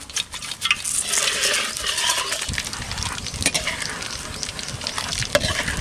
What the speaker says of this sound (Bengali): তেল গরম হয়ে গেছে, তা ফোড়ন আমি দেবো। গোটা জিরে, শুকনো লঙ্কা, গোটা গরম মশলা, তেজপাতা একসঙ্গে আমি দিয়ে দেবো।